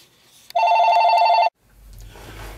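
A telephone rings once, a loud electronic trilling burst about a second long, followed by quiet low rumbling.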